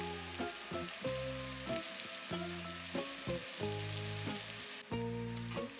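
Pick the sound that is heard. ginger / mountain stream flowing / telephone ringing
ginger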